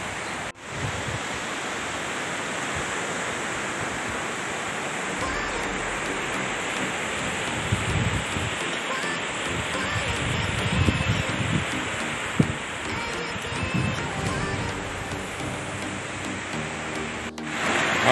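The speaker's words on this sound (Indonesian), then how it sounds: "Angin tiup kuat petangnya." Strong afternoon wind blows steadily across an open fishing spot where stingrays are caught, a constant loud broadband roar with gusty swells and a few brief knocks, no voices present.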